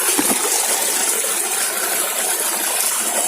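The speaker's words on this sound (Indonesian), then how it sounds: "Nah, di belakang saya ada air begitu." A river rushes steadily and loudly nearby at a rural village spot used for washing clothes, a dense, continuous hiss of flowing water with a brief clatter near the start.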